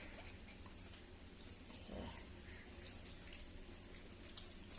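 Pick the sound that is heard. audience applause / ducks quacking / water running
water running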